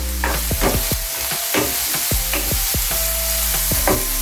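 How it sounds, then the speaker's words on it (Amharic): Vegetables for chicken cacciatore sizzle steadily in a pan while a spoon stirs and scrapes in regular strokes, close and loud with no talk. "አሁን አትክልቱ በደንብ ተጠብሷል"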